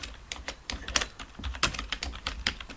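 Someone types on a computer keyboard while entering Urdu text in InPage. The keystrokes are rapid, irregular and close-up clicks, heard alone without talk.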